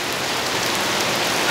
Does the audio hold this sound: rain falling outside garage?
yes